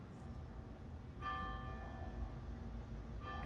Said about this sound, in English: And the church bells ring.